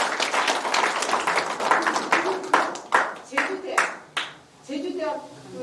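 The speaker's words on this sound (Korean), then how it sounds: "이런 때는 박수 쳐주고" An audience at a lecture hall talk applauds in a dense burst of clapping, which thins into scattered claps as a speaker's voice returns.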